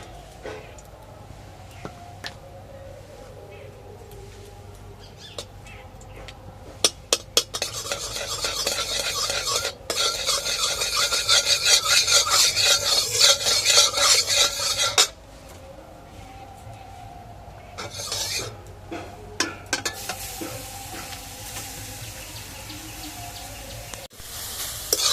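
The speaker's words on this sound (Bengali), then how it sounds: "প্রথমে গাজরটাকে ভেজে নেব" Grated carrot frying in hot ghee in a wok, with a steady sizzle and repeated scraping, clattering stirs of a utensil against the pan, louder in a busy middle stretch and then calmer.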